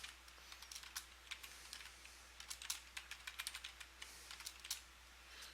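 Quiet keystrokes on a computer keyboard as a command is entered, a steady run of light, irregular clicks with small bursts and no talking.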